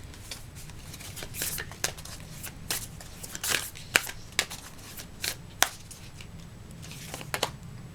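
A deck of oracle cards being shuffled by hand in a quiet room, a soft continuous riffle with many crisp flicks and taps spread unevenly across the clip, close by and fairly faint, with no talking.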